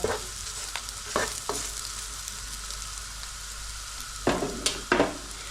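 Tofu pieces coated in corn flour fry in oil in a pan, giving a steady close hiss with a few louder crackling bursts and stirring clatters, no voices.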